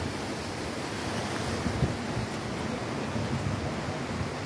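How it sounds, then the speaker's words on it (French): A river flows beneath a bridge near a quiet road in the village of Formiguères, a steady, even rush of water with some wind noise and no talking. "il y a une rivière qui passe en dessous, là"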